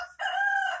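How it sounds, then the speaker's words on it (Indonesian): A chicken crows loudly and close by for nearly a second, a sustained harmonic call without talk. "Oh ya, ayam berisik."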